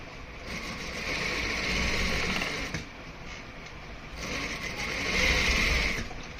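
A sewing machine runs a steady stitching seam on a ladies' pant pocket, a dense close mechanical whir that pauses briefly near the middle before resuming at full pace, alone with no talk.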